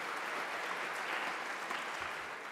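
Audience at a lightning talk applauds steadily, a dense, even clatter of many hands sustained for a couple of seconds without voices.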